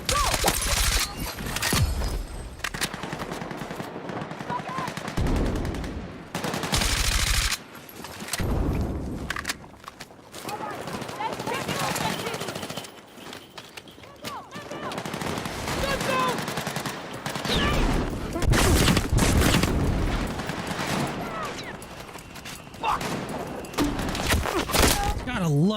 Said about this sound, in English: Gotta love getting hit by grenades.